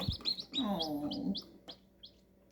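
A newly hatched chick chirps in a series of high, short peeps, with a bird call and a soft voice briefly between them, close and fairly quiet.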